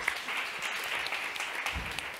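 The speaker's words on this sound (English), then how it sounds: "Maybe an applause indeed." Audience applause at a European employment and social rights forum session, a steady mid-level wash of clapping from a seated crowd that fills the whole moment without any talk.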